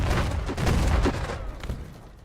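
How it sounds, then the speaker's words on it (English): A fused artillery shell going off in the Civil War game Battle Cry of Freedom gives a loud, dense blast and rumble that fills the first second, then thins into trailing crackles and decay. "Oh, that's an artillery shell."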